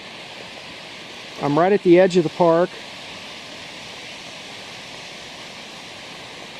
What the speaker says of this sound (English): that noise you hear is the Rapidan River.